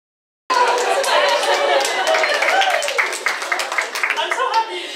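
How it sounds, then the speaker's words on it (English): A conference audience claps and murmurs, a dense burst of applause starting abruptly and holding steady before thinning into scattered claps. "I'm so happy you clapped for that"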